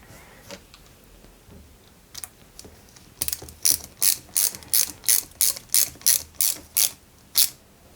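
A ratcheting screwdriver drives a new screw into a part of a 1/8 scale Red Bull RB19 model car, giving a quick run of about a dozen crisp, evenly spaced clicks after some light handling noises, close and alone.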